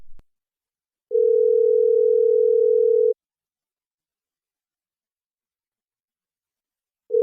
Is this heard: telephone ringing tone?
yes